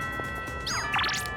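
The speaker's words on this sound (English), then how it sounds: "The first bell has rung." A school bell chime sounds in Persona 3 Reload, a short run of rising and falling electronic ding tones over a sustained musical background.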